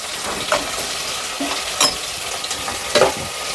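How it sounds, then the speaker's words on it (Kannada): Onion and chilli frying in a pan for egg biryani, a soft steady sizzle with a few louder scraping stirs of a spoon at intervals, no voices. "ಇದರಲ್ಲಿ ಚಿಲ್ಲಿನೂ ಹಾಕೊಂಡು ಫ್ರೈ ಮಾಡ್ಕೊಂಡ್ಬಿಡೋಣ"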